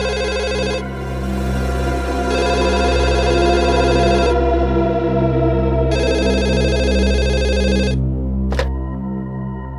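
A telephone rings with a loud, electronic, buzzing tone in repeated bursts with short gaps between them. A sharp click near the end cuts in over a steady low hum.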